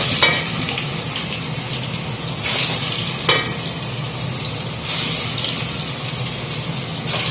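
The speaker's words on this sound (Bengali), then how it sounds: "এই শঙ্কর মাছ ফোটে তেল ছেটে" Stingray fish frying in hot oil, with a steady crackling sizzle and spattering that runs throughout and swells in a few louder bursts of splattering.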